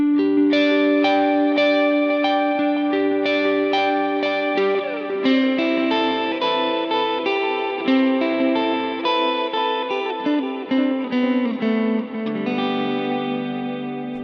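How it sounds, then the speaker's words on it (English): Line 6 Pod Go guitar processor plays ambient, spacey guitar tones: plucked notes ringing out under chorus, echo and reverb, melodic and sustained, washing together steadily with no talking. "even if you need some ambient, spacey, spaced out tones,"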